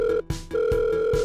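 A telephone rings out on an unanswered call, a steady electronic tone broken by short gaps, close and clear, with soft thumps between the rings and no speech.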